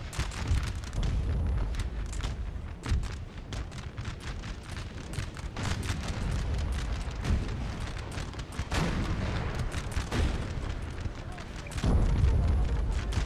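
Artillery barrage in the video game Napoleon: Total War, with dense, rapid booming cannon fire and explosions rolling continuously and loudly through a battle scene, while voices talk over it.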